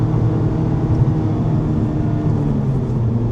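A fast-moving car with lightly loaded tires, heard from inside as a steady, loud low engine and road rumble that holds constant without distinct changes.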